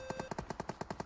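Rapid machine-gun bursts in a shooting video game, about ten crisp evenly spaced shots in a second, fairly quiet with a steady tone running underneath, no talk.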